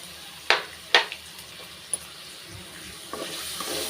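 Grated coconut and asafoetida fry lightly in a pan, giving a soft, steady sizzle close by. A couple of sharp clinks from stirring come early, with a few quieter taps later.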